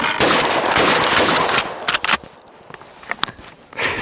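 Shotgun slam-firing at clay targets outdoors, with a loud, rapid burst of blasts at the start and a couple of further sharp reports afterward.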